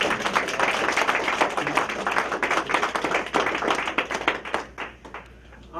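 An audience claps for a speaker at the grand opening of OcuPrep, a school. The dense, steady clapping fills the room, with a few voices faintly mixed in.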